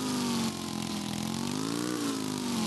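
A motorcycle engine in a Brazilian motorcycle game holds a steady, loud, buzzing high rev, pitch dipping briefly and then climbing again, with no talk over it.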